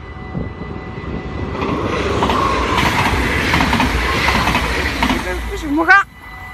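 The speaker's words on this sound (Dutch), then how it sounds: "Ik ben er bang dat we 2 treinen gaan krijgen." A train rumbles past at a rail line in Maasbracht, the Netherlands, a broad rising and sustained roar at close range, with a whistling pitch sweep near the end as it fades.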